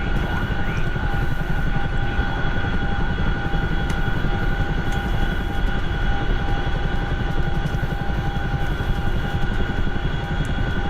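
A small airplane's engine roars at a steady high power during the takeoff run, loud and continuous throughout with a constant droning tone and no break.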